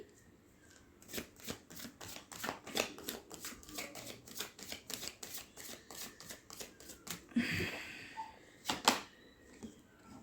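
Tarot cards shuffled and handled in a quiet room: a steady run of crisp, rapid riffling flicks with a brief rustling slide partway through, close and fairly soft, with no talking.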